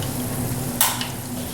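Bacon bits sauté in a pan for shrimp and grits, a close, steady sizzle with one sharp scrape or tap near the middle and no talking.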